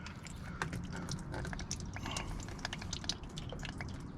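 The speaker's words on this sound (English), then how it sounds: "I always just spin the plug out with a funnel below so that it goes into the drain pan." Engine oil from an LS engine drains through a funnel into a drain pan, making a faint, continuous trickle with scattered drips close by.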